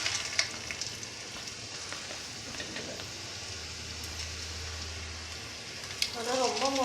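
Thattai, a crispy rice-flour snack, frying in hot oil, a steady soft sizzle and crackle at close range under intermittent talking.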